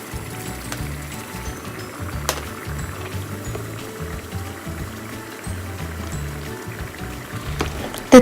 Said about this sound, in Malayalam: അപ്പോൾ ഇതിനകത്തേക്ക് ആ തിളച്ച വെള്ളം ഒഴിക്കുക